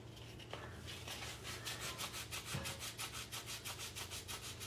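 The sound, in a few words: sanding block rubbed on wood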